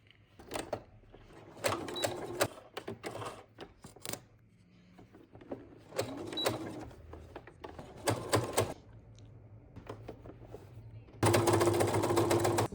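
A sewing machine stitches the ear seams of a fabric teddy bear in short separate runs, each a quick mechanical whir lasting a second or two. Quiet pauses fall between them, and the final burst is the loudest.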